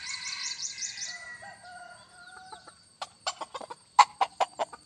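A hybrid decoy rooster gives drawn-out crowing calls, then a series of short, sharp clucks and chirps follows in quick succession, close and fairly clear.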